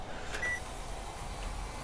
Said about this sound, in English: it beeped at me